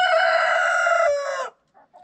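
A rooster crows once, loud and close, a single sustained call of about one and a half seconds that cuts off sharply, followed by a couple of faint clucks, on a homestead property in Alaska.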